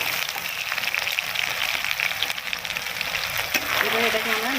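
A boiled and ground paste of ginger, garlic and onion frying in a pan, a continuous crackling sizzle with soft stirring scrapes, close and fairly loud, with a brief voice near the end.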